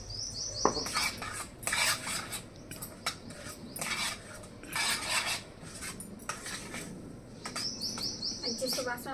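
A spoon scrapes and clinks against a pan while sweet filling for poornam boorelu and bobbatlu is stirred, in repeated bursts, with a voice talking softly and faint chirps in the background.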